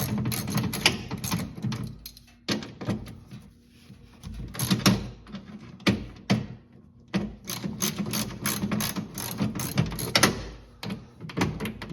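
A ratchet wrench clicks in quick, irregular bursts as it loosens the four 10mm oil pan bolts on a Honda Pioneer side-by-side. The clicks are close but quiet, with short pauses between runs and no speech.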